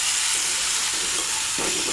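Water poured onto frying turmeric, coriander and chili powders for a fish curry, a loud dense hiss of steam and sizzle filling the whole moment, with faint bubbling and stirring underneath.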